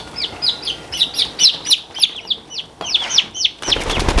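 Turkeys being caught and moved out to pasture give a rapid run of close, high bird calls, one bursting after another with barely a break, and a louder rustling clatter near the end.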